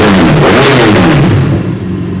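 A BMW F800R naked motorcycle engine revs loudly and close by, rising in a strong throaty surge then easing back to a steady, slightly lower drone over about two seconds, with no voices.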